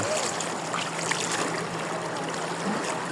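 A river stream flows with a steady, soft rushing wash, continuous and fairly quiet, with no voices.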